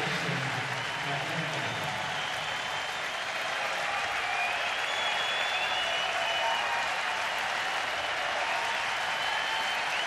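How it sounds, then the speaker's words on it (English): Sellout baseball crowd at a Detroit Tigers home game against Milwaukee, cheering and applauding in a dense, sustained roar that holds steady throughout, with an announcer talking over it. "This crowd's going to get up and get into it."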